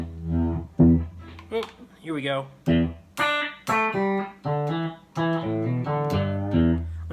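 An electric guitar plays a riff built on 7th chords, a series of distinct plucked notes and chord stabs in a bouncy rhythm, close and clear, with a brief spoken remark at the start.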